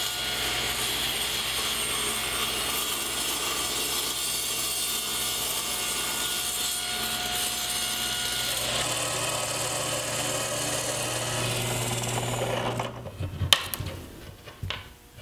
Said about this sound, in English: I'm just going to shave this off using the table saw